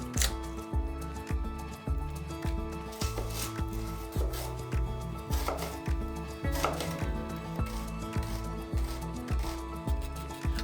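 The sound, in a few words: finely chopping an onion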